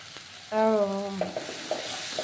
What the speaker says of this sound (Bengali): মশলাটা কষে নিতে হবে